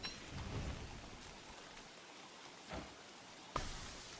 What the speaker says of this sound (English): So, also it rains now. When it rains, it pours.